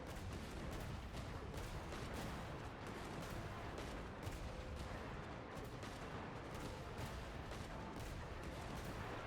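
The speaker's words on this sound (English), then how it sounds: "Des kabooms de zone." Area-of-effect explosions in Genshin Impact go off in a dense, continuous barrage, with layered blasts and crackling bursts stacking into loud, steady combat noise with no clear gaps.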